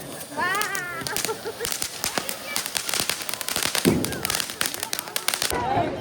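A crackling, hissing peacock firework fizzes with rapid pops and sparks for several seconds at a Diwali celebration, with voices calling out over it.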